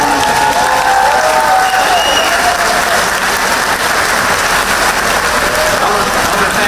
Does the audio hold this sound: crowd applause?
yes